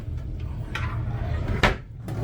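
Cabin cubby door on a cruise ship opening with a brief scraping slide and a sharp knock, close and fairly loud over a steady low hum of room noise.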